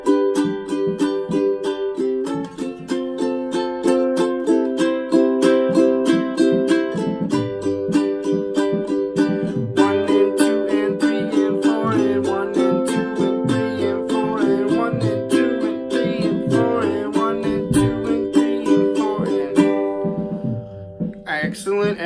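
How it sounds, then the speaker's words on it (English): Acoustic guitar strummed in a continuous down-up pattern on each beat and off-beat, with chords changing throughout and a steady, fairly loud rhythm that rings out near the end. "so essentially it's down, up, down, up, down, up."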